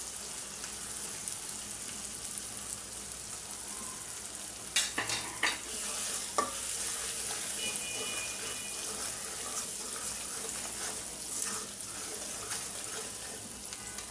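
Hog plum pickle fries with spices as it is stirred, a continuous soft sizzle with a few clear scraping and clinking strokes near the middle, close up and without talk.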